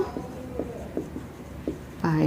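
A pen moves across paper during a geometry lesson, giving faint scratchy strokes in short bursts, with a louder, denser stretch of writing near the end; no one speaks.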